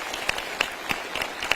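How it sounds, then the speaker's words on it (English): Scattered hand claps from a small crowd at a military test wing commander's call, sparse and uneven, a few sharp claps standing out over a quiet room. "one more round of applause for his brief"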